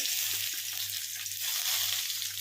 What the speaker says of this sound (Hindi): तेल हमारा गरम हो चुका है, उसमें हम जो हाफ टी स्पून जीरा लिए थे उनको ऐड कर लेंगे